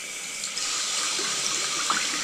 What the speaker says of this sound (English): Start the water.